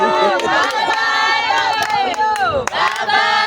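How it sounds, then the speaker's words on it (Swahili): A crowd honoring a chairman with loud, close cheering and shouting voices at a celebratory gathering, many people calling out together in a sustained burst. "Makofi kwa mwenyekiti."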